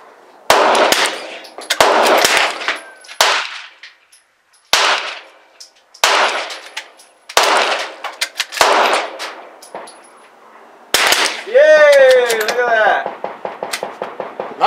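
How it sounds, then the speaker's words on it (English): Gunshots are fired at moving targets outdoors, about nine loud, sharp reports spaced a second or two apart, several followed by metallic clangs, with people talking between shots. "I'm gonna try to shoot it."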